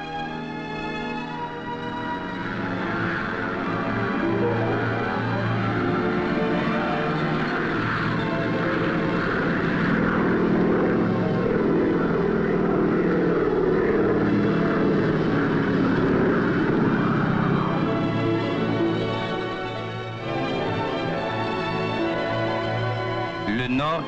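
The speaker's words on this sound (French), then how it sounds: "on parle fort à cause des moteurs, on regarde partir l'avion" Propeller airplane engines drone loudly and steadily as the plane departs from the Îles de la Madeleine, a dense continuous roar that holds throughout, with voices talking faintly beneath it.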